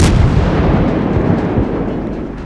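A torpedo hit and explosions from the naval battle game World of Warships, a loud, heavy booming blast that rumbles and slowly fades, with no voices.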